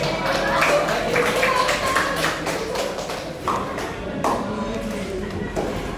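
A classroom group claps together in steady, dense applause lasting several seconds, close and fairly loud, with bursts of individual claps standing out and a voice speaking over it.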